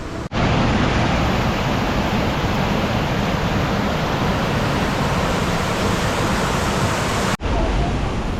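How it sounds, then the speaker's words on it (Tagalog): Rushing water of Puray Falls, a powerful waterfall in strong flow, heard as a loud, unbroken roar that fills the scene from near, with brief dropouts at the start and near the end. "ang lakas ng agos ngayon"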